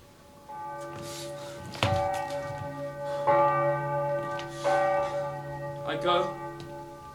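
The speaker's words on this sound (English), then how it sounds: "The bell invites me." A deep church bell tolls slowly in a performance of Macbeth, about four resonant strikes with long humming decays overlapping each other.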